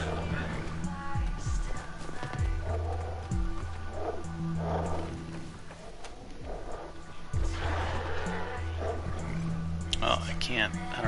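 Wild dogs bark and yip in a Wasteland 3 combat encounter, several sharp barks scattered over a continuous game soundtrack, with a voice talking throughout.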